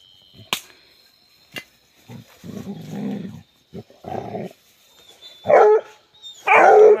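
Dogs hunting an armadillo in Loma Bonita, Oaxaca, barking in loud close bursts with growls and yips, separated by short pauses, under excited shouting.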